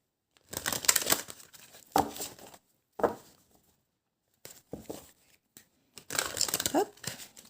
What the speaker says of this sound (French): Je sors la petite carte conseil.